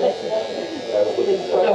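An electric shaver buzzes steadily as it moves up toward a chin, a moderately loud continuous drone with people talking over it.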